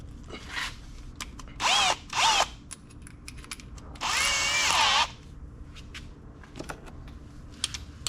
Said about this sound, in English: Then I need my drill for this.